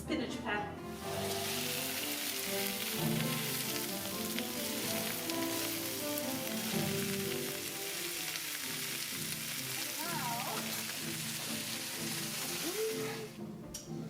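Spinach frying in a hot pan, a steady loud sizzle with stirring running throughout, while people talk nearby.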